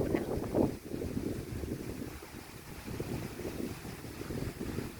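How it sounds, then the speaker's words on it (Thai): Strong, dry, cold winter wind blows across rice fields, buffeting the microphone with a continuous low rumble and gusts, loudest at the start. "วันนี้ลมแรงมากเลย"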